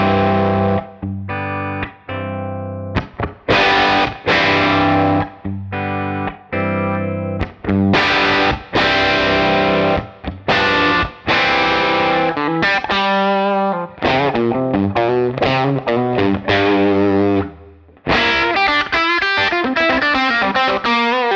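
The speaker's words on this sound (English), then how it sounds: "So now I activate the boost, and the amp starts breaking up" Guitar amp pushed into distortion by an engaged boost, loud and sustained, with strummed chords and single-note runs ringing out in a continuous, saturated stream and no talking.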